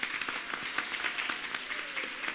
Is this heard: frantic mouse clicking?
no